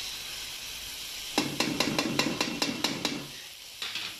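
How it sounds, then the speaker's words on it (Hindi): Ginger garlic paste sautés with golden-fried onions for Shimla chicken, a soft sizzle under a quick run of about nine rhythmic spoon taps and scrapes against the pan, then a short pause and a couple more. "अब हम ऐड कर देंगे जिंजर गार्लिक पेस्ट"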